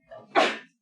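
One sharp sneeze rings out close and loud in a classroom, a short breathy intake and then a bright burst that fades within half a second.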